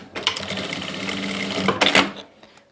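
A sewing machine stitches a seam on a garment top in a close, steady mechanical whir lasting about two seconds, with brief clacks as the fabric is shifted before it stops.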